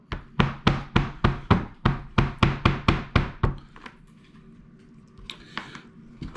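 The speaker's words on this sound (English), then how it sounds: "since I'm using a knife as a hammer" Sharp wooden-sounding knocks as a knife butt, sheathed and used as a hammer, taps a mantis shrimp (peeler) shell at a joint: about ten quick, evenly spaced strikes, loud and close, then a quieter stretch with a few faint taps.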